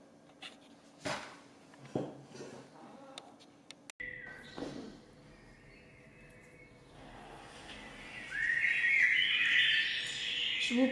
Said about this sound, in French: Je vous mets un petit fond musical avec les chants des oiseaux.